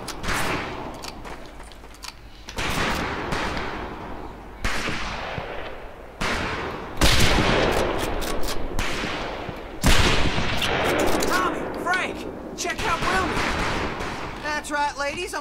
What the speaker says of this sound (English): That's some pretty fair shooting.